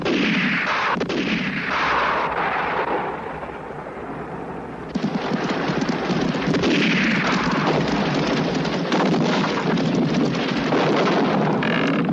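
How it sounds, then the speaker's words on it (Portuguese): Gunfire in a western shootout rolls through as loud, echoing bursts of shots that blur into a dense, booming roar, briefly easing mid-clip before erupting again even louder and sustained, with no voices. "Atiroteio, Joe. Estão atirando."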